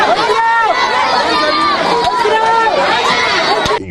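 A crowd gathered at the door of a family home after a funeral prayer acclaims a departing spiritual guide, a loud, close swell of overlapping voices and chanting calls that carries on without pause.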